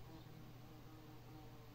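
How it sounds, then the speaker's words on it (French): A bee buzzes inside a house, a faint, steady, continuous drone with no break and no voices. "Ah mais non, l'abeille, pas dans la maison."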